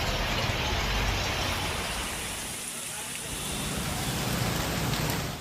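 Heavy monsoon rain lashes down in Gujarat amid strong gusty wind, a loud, steady, dense roar that runs unbroken throughout, dipping briefly in the middle before surging back.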